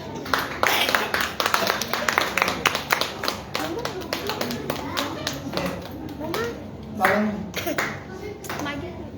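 A church congregation at a Resurrection Sunday service claps hands in steady bursts of close, crisp claps across the clip, mixed with voices talking and children's chatter.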